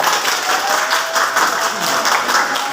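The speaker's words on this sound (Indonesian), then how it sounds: "Oke, tepuk tangan dong." A class of high school students clapping their hands in a classroom, a short, dense burst of applause that stays loud and even.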